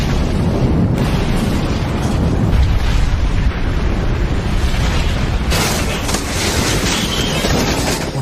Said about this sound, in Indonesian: Bom Kronol pun meledak.